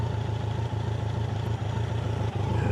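A BMW K100 motorcycle engine warming up sits at a steady, close idle with an even rhythmic chug and a few small dips, alone without talk.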